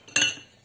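A spoon stirs a thickened cornstarch sauce for tochong bangus (milkfish) in a pan, giving one short, bright clink and scrape that fades quickly into quiet.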